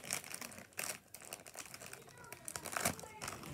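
A crisp packet is torn open and handled, producing several bursts of crinkling and crackling plastic up close, with brief gaps between the rustles.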